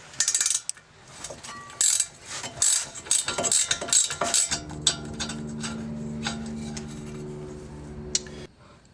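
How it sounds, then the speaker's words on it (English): Ratchet with an 8mm hex bit working the upper caliper bracket bolt on a VW Passat's rear brake, giving quick clicking ratchet strokes up close, followed by a steady low mechanical hum. "the caliper bracket bolt, and it takes a 8mm hex bit"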